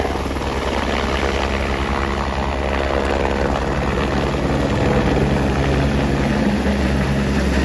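A helicopter at the Phata helipad prepares to lift off toward Kedarnath, its rotor and engine producing a loud, steady, close thudding drone that grows slightly heavier toward the end.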